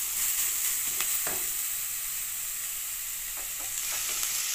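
Grated beetroot and other vegetables sizzle steadily in a hot pan, a continuous bright frying hiss with a few faint stirring scrapes and no talking.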